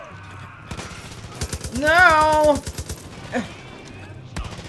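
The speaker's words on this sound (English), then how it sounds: "Who is firing at me?" Gunfire in the video game Far Cry 5 crackles in a rapid automatic burst and a few scattered shots, loud and close, while someone shouts and a game voice calls out over it.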